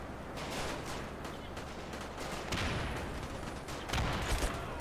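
Grenades burst in the Company of Heroes Robz Mod video game, with two sharp booming blasts standing out over a constant din of battle gunfire.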